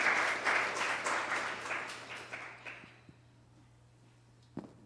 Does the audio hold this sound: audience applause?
yes